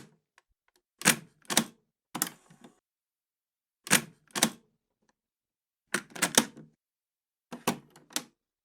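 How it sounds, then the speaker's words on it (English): Mechanical clunks and clicks from a tape machine in the Cattaneo Pianos sample library, sounding as isolated sharp bursts in small pairs and clusters separated by silence, close and dry. "So these are the sounds of the tape machine."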